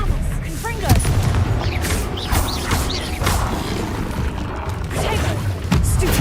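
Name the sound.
Confringo blasting spell in the Hogwarts Legacy video game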